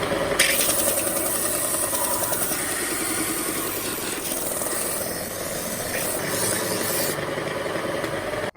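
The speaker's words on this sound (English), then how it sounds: "I'm just going to even it out here on the belt sander" A belt sander smooths a rough-cut wooden boomerang, making a continuous loud motorized whir with a gritty abrasive hiss, steady throughout before cutting off abruptly at the end.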